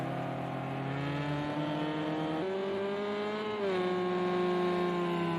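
GT race cars heading into the first turn on a Spanish circuit, a steady, loud engine drone with shifting pitch as the cars brake and downshift, with no voices over it.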